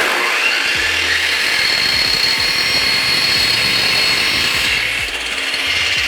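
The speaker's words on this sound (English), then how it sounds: "So let's cut this little block of wood." A loud power saw whines steadily through a small block of wood at close range, a continuous high buzzing cut with a slight dip near the end.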